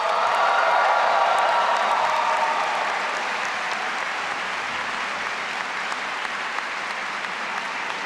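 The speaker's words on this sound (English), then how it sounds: "I guess I have to stop the applause" Sustained applause from a large graduation audience honoring teaching award winners, loud and steady at first then gradually thinning, with scattered cheering in a big hall.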